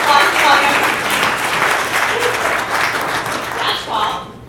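A startup pitch audience at StartUp Tech Valley breaks into applause: a dense burst of clapping from a room of people, with voices heard at the start and again as it fades.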